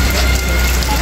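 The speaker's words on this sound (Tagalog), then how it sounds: "So nag-ulan dito mga kababayan." Heavy rain falls outdoors, a loud, dense and continuous hiss of drops striking surfaces, steady for the whole moment with no voices.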